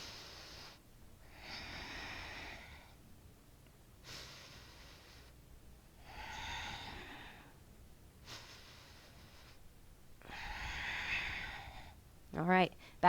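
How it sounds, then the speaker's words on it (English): Slow, deep breaths drawn in and out during a yoga pose in a leg-focused flow, about three long broadband breath cycles with quiet gaps between them, close and fairly soft. "Let's take about 3 more breaths"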